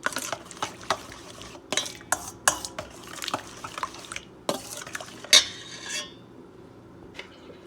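Puff puff dough of flour, salt and water is stirred in a bowl, with a spoon repeatedly clinking and scraping against the sides in uneven strokes and a louder knock near the end.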